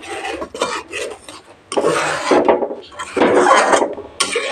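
A spoon stirs cardamom powder into hot peanut milk in a pot with the gas off, making rasping, scraping strokes against the metal in uneven bursts, close and fairly loud with no voices.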